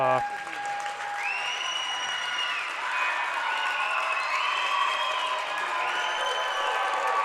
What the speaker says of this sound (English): Standing ovation for another sectional title.